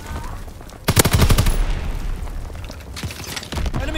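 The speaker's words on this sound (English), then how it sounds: "Enemy mortar fire incoming." Enemy mortar blasts and machine-gun fire from Call of Duty: WWII hit in a loud rattling burst, then fade into scattered shots and a second flurry of gunfire.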